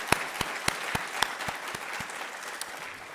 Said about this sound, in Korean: 우리가 한 박수로 격려해드리도록 하겠습니다